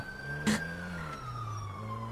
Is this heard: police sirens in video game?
yes